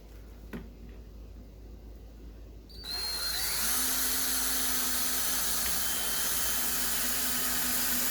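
A power drill countersinking a hole in a melamine shelf panel; quiet room tone gives way after about three seconds to a loud, steady high whine with a sustained hum that continues to the end, with no talking.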